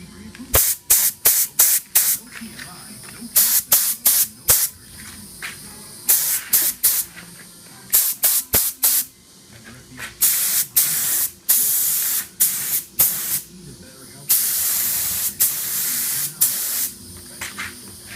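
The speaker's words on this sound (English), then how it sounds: "Alright, and then we'll spray coat on it." Repeated bursts of a jamb spray gun laying a paint coat onto a car during an automotive metal flake paint job, each hiss lasting about a second with short pauses, loud and close, with some low background noise.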